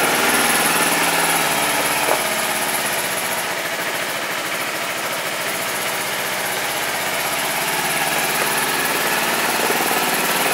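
A 2009 Kawasaki EX250R motorcycle engine runs at a steady idle, a loud, constant buzzing drone that holds evenly from start to end.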